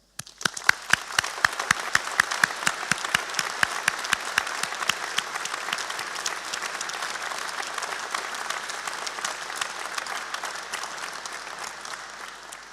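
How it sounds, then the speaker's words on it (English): An audience applauds graduates at a college graduation ceremony in 2018: a dense burst of many hands clapping, loud at first and gradually thinning as it continues steadily for the whole stretch. "Please can I ask you to join me in applauding their success."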